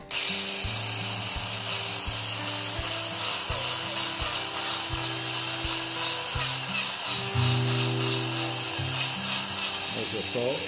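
A goat's hoof is trimmed, flattening the sole and shortening the toe, with steady close rasping and scraping strokes in a repeating rhythm against a constant background hum.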